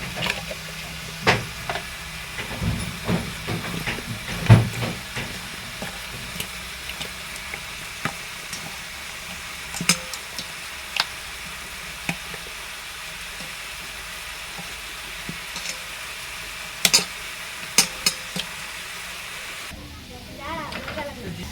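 Fish coated with turmeric and salt frying in hot oil, a steady broad sizzle running throughout with occasional sharper pops and clatters, while a voice speaks intermittently over it.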